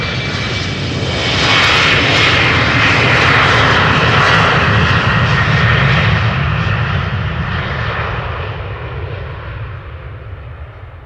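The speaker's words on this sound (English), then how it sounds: "Embraer 190 outbound to Toulouse." An Embraer 190 jet airliner departs Amsterdam Schiphol outbound for Toulouse, its engine roar swelling loud and close, then fading gradually as it climbs away, with no talk over it.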